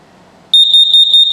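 A gas and carbon monoxide alarm in a 2022 Salem Cruise Lite 28VBXL travel trailer beeps loudly in a rapid series of high-pitched pulses, starting abruptly after a moment of quiet.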